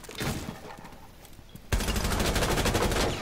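Gunfire in a first-person shooting video game: a scattered shot or two, then sustained rapid automatic fire that starts abruptly halfway through and stays loud and close to the end, with no talking.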